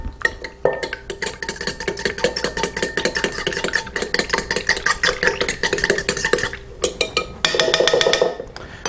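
A fork beats batter in a bowl for cronuts, a fast steady rhythm of close, bright clicks and scrapes against the bowl that continues without a break.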